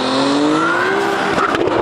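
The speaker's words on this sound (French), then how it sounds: "Ça fait même plus un bruit de GTR, ça fait un bruit de vaisseau spatial qui vient d'autre part" A 1000 hp Liberty Walk Nissan GT-R accelerates hard, its engine note climbing in a steady, loud rising whine with a spacey, turbine-like character and some tire noise toward the end.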